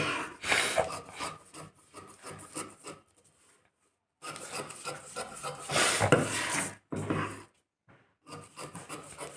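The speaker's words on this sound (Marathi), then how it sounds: "आता मी याला कट करून घेणार." Scissors slicing through blouse fabric during tailoring, a close, dry rasping snip repeated in quick bursts with short pauses between cuts.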